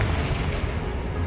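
The Confringo fire spell from Hogwarts Legacy erupts in a dense, roaring blast, loud and close, filling the whole short moment with a rumbling, crackling burst.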